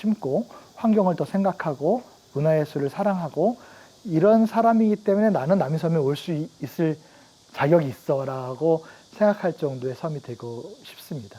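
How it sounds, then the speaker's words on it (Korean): Cicadas on Nami Island, Korea, keep up a steady high-pitched drone through the whole stretch, sitting faintly beneath a person talking continuously in the foreground. "오늘 사실 이 매미 소리가 들리는데"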